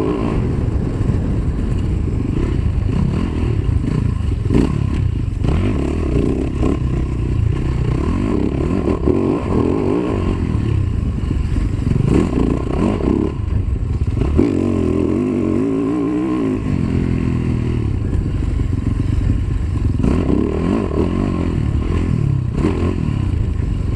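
A Yamaha YZ450F dirt bike ridden around a dusty lap at a 24-hour endurance event, its engine roaring continuously and close up, rising and falling with throttle changes alongside clattering and scraping.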